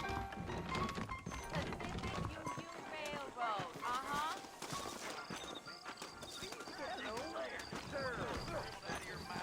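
Horses from the video game Red Dead Redemption, saddled and ready out front: clip-clop hoof steps and whinnies close by, mixed with game voices and background sound.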